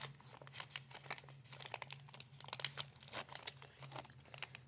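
Plastic wrapping crinkling and rustling as a ritual candle is unwrapped, a close, quiet run of irregular crisp crackles and tearing bursts, with a faint low hum underneath and no speech.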